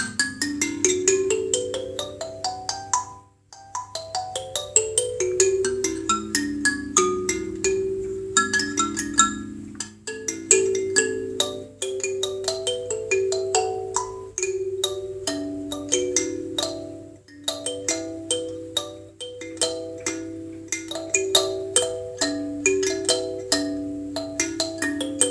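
A homemade box kalimba plucked in a flowing melodic pattern, bright metallic tines ringing over a low sustained drone, notes overlapping steadily at close range with no voices.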